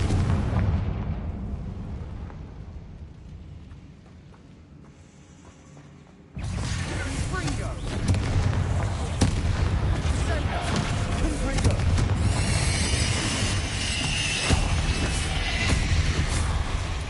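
A Confringo fire spell bursts in Hogwarts Legacy, where a quieter stretch gives way to a sudden loud, rumbling blast that lingers as a dense, roaring wash of fiery noise and clatter, with a voice briefly heard.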